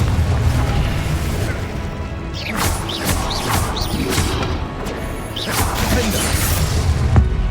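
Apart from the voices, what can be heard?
Confringo and Incendio spell blasts in the video game Hogwarts Legacy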